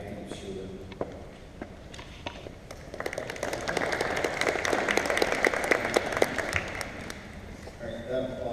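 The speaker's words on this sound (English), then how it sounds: "that applause was really lackluster compared to Tracy's" Audience applause at a responsible gambling campaign kickoff event, a thin scattered patter at first that swells into steady, moderate clapping from a modest crowd, then fades.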